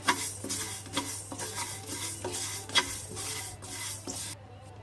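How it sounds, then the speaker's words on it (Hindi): Fenugreek and fennel seeds dry-roast in a pan without oil, with repeated rasping, scraping strokes of a stirring spoon in a steady rhythm. Close and moderately loud, with no voices. "मेथी भूनेंगे, सौंफ भूनेंगे, बिना तेल के भूनना है।"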